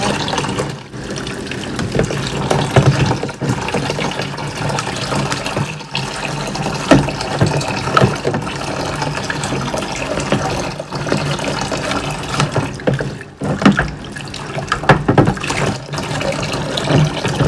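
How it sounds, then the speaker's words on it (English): Hot water runs steadily from a tap to rinse loose gunk away, a continuous gushing splash that surges and dips as objects move through the stream, with no speech over it. "I'm using hot water to loosen, get that last loose stuff off"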